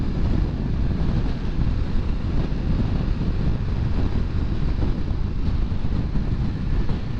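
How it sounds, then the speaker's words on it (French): Wind buffets the rider on a 2020 BMW F900 XR motorcycle, a constant loud low roar and rumble filling the whole stretch with no gaps and no talking. "M'a saoulé ce vent de merde aujourd'hui"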